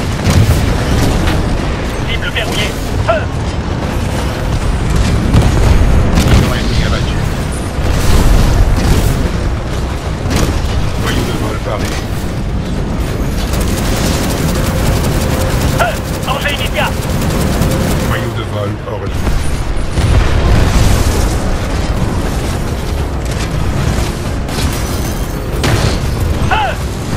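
Locked-on weapon fire and explosions in Titanfall 2, with dense, continuous booms and bursts rumbling loudly throughout while a voice speaks over the barrage.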